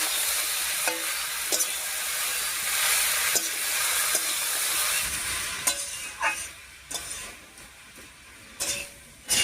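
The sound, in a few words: stirring dal bori and grated coconut frying in a pan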